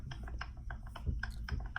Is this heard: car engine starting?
no